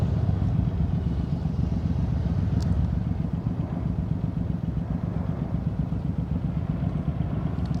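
A motorcycle engine runs at low throttle during slow-speed riding practice, a steady, even mid-range rumble that holds constant throughout with little variation in pitch.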